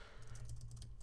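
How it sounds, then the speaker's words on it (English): Quick, soft clicking of keys on a computer keyboard during a Minecraft modded let's play, a brief rapid run of keystrokes over a low background hum, faint and close. "I'm not really bad at typing. I just can't see my keyboard because of my microphone."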